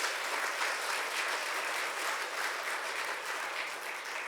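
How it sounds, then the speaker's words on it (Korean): A church congregation applauds to welcome the pastor to the pulpit at an autumn Bible conference, with dense, steady clapping filling the hall at close range for the whole stretch, no voices over it. "나오실 때 우리 격려하고 환영하는 마음으로 박수로 우리 함께 환영을 듣겠습니다."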